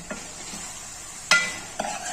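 Onion-tomato masala frying in oil in a pan, a soft, faint sizzle with a few sharp stirring scrapes and clinks of a spoon against the pot.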